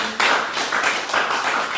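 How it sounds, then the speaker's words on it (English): A studio audience on a Nigerian evening talk show claps in a few loud, broad bursts, a steady pattern of hand claps filling the short stretch with no talk over it. "Let's continue to clap for Tunde Ednot on Instagram."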